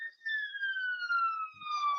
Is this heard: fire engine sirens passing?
yes